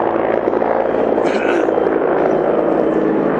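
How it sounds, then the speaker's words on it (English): A helicopter about a kilometer away over wilderness gives a steady, distant rotor drone that holds level throughout, while a man briefly starts to speak over it. "wait for that helicopter to come pick me up"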